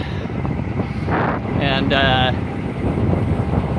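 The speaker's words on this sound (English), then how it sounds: "It's super windy today." Strong wind buffets the microphone on a road bike ride in New England on a custom Cervelo S5, making a constant low, loud roar. A voice briefly speaks over it.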